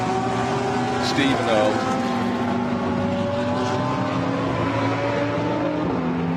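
Porsche GT race cars at speed during a Blancpain GT Sports Club race at Barcelona, engines droning loud and steady with rising and falling pitch, under continuous commentary.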